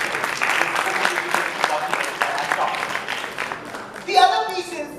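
An audience at the VOOT 2.0 launch event at ITC Maratha claps steadily, moderately loud, with a brief louder swell of voices near the end.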